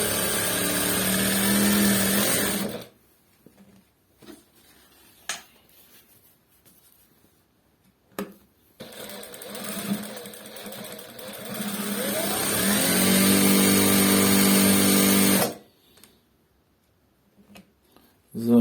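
A Siruba 818-H1 industrial sewing machine with a Bruce servo motor runs at a high whirring pitch for a few seconds, stops, then starts again and spins up to a long, steady drone before shutting off.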